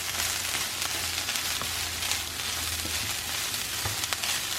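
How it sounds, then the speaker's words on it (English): Sausage and hash brown potatoes sizzle steadily in a hot pan while being stirred together, a continuous close frying hiss with faint scraping and no voices. "Get your sausage and your potatoes mixed in."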